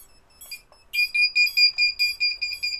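FPV goggles give off a fast run of shrill, evenly spaced alarm beeps, loud and close, about eight pulses in a row after a few faint chirps, with no talking over them.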